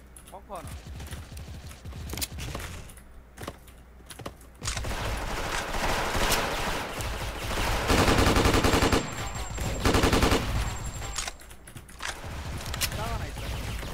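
The TYPE89 rifle in the online shooter Special Force fires in rapid automatic bursts, loud and close, with sustained volleys that nearly fill the whole stretch and only brief pauses between them.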